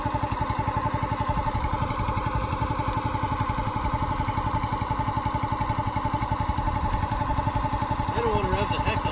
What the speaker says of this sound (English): We got a wood splitter, honey.